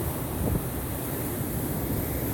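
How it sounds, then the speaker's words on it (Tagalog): Strong waves and gusting wind at sea during a fishing trip in a strong northeast monsoon, a steady broadband roar that stays loud and unbroken throughout with no voices. "Tingnan nyo naman ng alon mga master oh."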